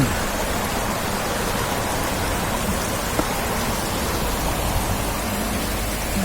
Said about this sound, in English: And there's our creek as usual.